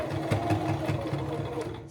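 A sewing machine runs a straight stitch along the edge of a keepsake memory pillow cover, a steady, even mechanical whir with a regular rhythmic needle pulse, close and continuous, with no one speaking.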